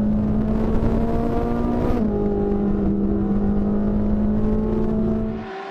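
Onboard a Ferrari 458 Challenge race car at Dijon-Prenois, its engine howls steadily at high revs, with a brief pitch shift as it changes gear partway through, loud and continuous before fading slightly at the end.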